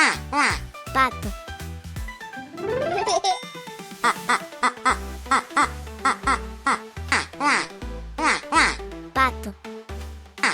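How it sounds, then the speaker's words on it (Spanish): Repeated bright duck quacks come in a quick, bouncy rhythm, mixed with playful, musical, cartoon-like sounds from a children's animal-sounds lesson. "Esto es un pato."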